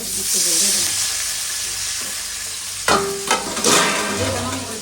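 Onions frying with potatoes in a hot pan give a bright, continuous sizzle. Stirring clatters and scrapes join near the end, and a voice murmurs faintly underneath.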